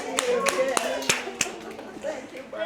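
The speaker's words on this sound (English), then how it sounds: "Give yourselves a round of applause" A small group claps at the end of a word game show, a sparse, uneven patter of separate hand claps with a few sharp louder ones, mixed with chatter and cheering voices.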